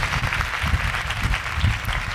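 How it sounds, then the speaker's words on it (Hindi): Dense, loud clapping from a church congregation at a Pentecost service, a continuous rush with low thumps underneath and no speech. "उसके जलाल के लिए जोरदार तालियां बजाएं।"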